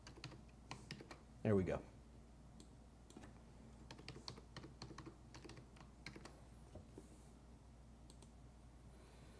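Soft, rapid keystrokes on a computer keyboard as a complicated password is typed, faint clicks scattered across the stretch with a brief spoken remark partway through.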